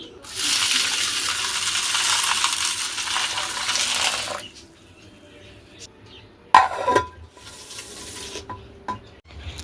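Water is poured over dried kidney beans (rajma) to soak them, making a steady rushing splash for about four seconds. Quieter bowl clinks and handling noises follow, with one sharp knock.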